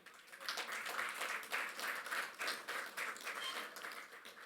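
An audience at a G20 Interfaith Forum education session in Pune, India, applauds, a steady wash of many hands clapping at moderate distance, fairly soft and sustained for several seconds with no talking.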